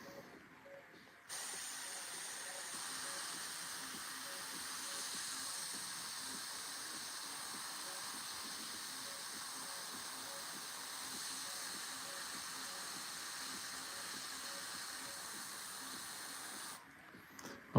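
An airbrush spraying paint onto a Warhammer miniature, a steady close hiss that starts abruptly and runs about fifteen seconds, with a faint repeating ticking underneath, then stops.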